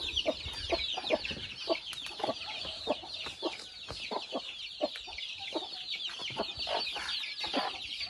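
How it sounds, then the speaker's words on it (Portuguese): Chickens and chicks on a farm cluck in a steady run of short, close clucks, with faint higher peeping and birdsong in the background, and no voices. "Você tá colocando os pintinhos tudo junto, né?"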